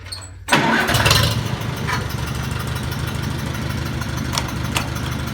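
An old Farmall Cub tractor engine cranks and catches abruptly, then settles into a steady, rumbling idle with a few sharp knocks, close and fairly loud.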